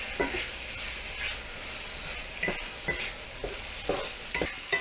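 Mushrooms, onion and pepper soften in a hot pan, a low steady sizzle broken by several sharp spatula scrapes and knocks at an uneven pace, close up with no talk.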